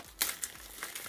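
A mail package is opened by hand, giving a few short crinkling and crumpling bursts of plastic or paper packaging, close and brief.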